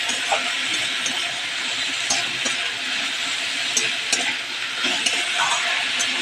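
Red amaranth greens frying in a pan are stirred, with a steady loud sizzle and scattered scrapes and clinks of the utensil throughout; no one speaks.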